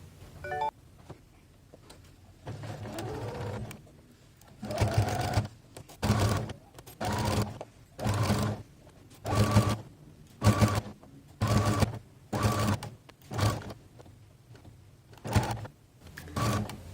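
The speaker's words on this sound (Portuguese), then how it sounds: "vou passar uma costura pé de máquina aqui, prendendo a beirada que tá aberta" Domestic sewing machine running a seam along the open edge of a fabric fru-fru handbag base, in a dozen or so short bursts of rapid mechanical stitching separated by brief pauses, close and fairly loud.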